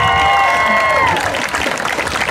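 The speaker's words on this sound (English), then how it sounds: "you send them a shout out of applause" A graduation audience breaks into applause for the parents, clapping rising under a fading tonal sound and continuing as a steady crowd patter, with some voices mixed in.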